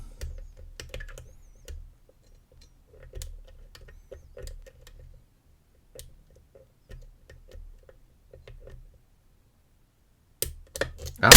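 An ABUS 52 bicycle lock is picked, giving faint, intermittent small metallic clicks and scratches that come in sparse clusters, with a louder clunk near the end.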